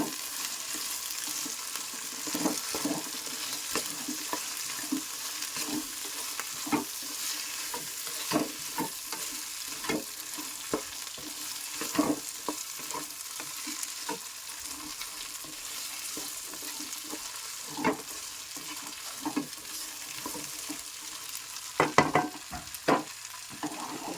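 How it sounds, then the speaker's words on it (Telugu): Cluster beans being stirred with salt in a hot pan, a steady sizzle of frying under repeated scraping strokes of a spoon, close and continuous throughout with no talk. "సో సరిపడినంత ఉప్పు వేసేసి ఇప్పుడు మొత్తాన్ని కలిపేసుకోవాలి."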